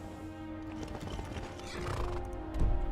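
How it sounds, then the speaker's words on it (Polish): A horse whinnies in the Skyrim video game, a clear neigh over a busy game background with hoofbeats thudding nearer toward the end. "Jest mój koń."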